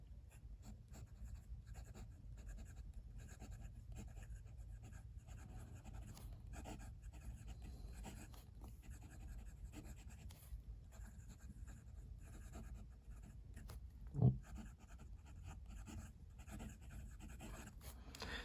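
A fountain pen nib on a Penlux Masterpiece Grande scratches softly across paper in short, faint writing strokes, quiet and close, with one brief louder knock partway through.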